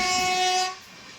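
Mangaluru–Mumbai LTT Duronto Express on the Konkan Railway sounding a loud, sustained horn as it passes close by, the blast cutting off abruptly into rumbling wheel noise.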